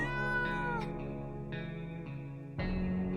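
A cartoonish cat meows several times in the survival game 60 Seconds! Reatomized, close and clear, with an echoing effect over steady game music.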